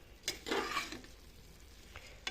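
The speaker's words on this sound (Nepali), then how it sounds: "भुट्नुभयो भने यसको स्वाद मिठो आउँछ।" Rice and lentils are stirred and roasted in a pan over a low gas flame for khichdi, giving a few scraping stirs and a soft sizzle, quiet with no talk.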